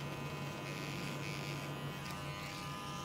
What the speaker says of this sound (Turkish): Böyle makinenin ucuyla böyle ince ince alıyorsunuz.